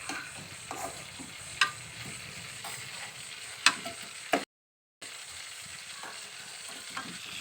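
Prawns frying in oil for a prawn biryani, a steady close sizzle broken by occasional sharp taps and clicks of a utensil, with a brief silent gap partway through.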